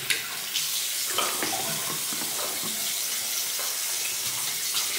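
Running tap water splashes steadily over hands at a bathroom sink, a close, continuous hiss with small shifting splashes as the hands move, and no voices.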